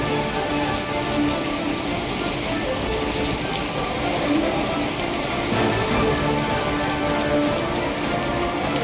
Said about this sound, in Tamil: சென்னை, கிண்டி, மாதவரம், கொளத்தூர் உள்ளிட்ட பகுதிகளில் மழை.